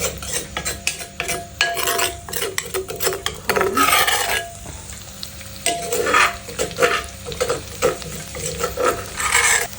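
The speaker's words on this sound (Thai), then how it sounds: "พอผัดพริกแกงหอมแล้ว" Thai curry paste is stir-fried in a pan for spicy snakehead fish, with loud rhythmic spatula scraping and rasping over a constant sizzle, close and busy throughout.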